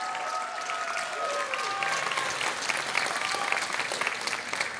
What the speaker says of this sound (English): Let's have a giant round of applause for all our seniors, class of